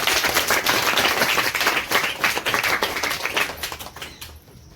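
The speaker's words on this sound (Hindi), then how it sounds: "नवज्योति के लिए क्लैपिंग करें।" A classroom of students claps for Navjyoti at a school prize ceremony, a few seconds of sharp, close handclaps that thin out and fade toward the end.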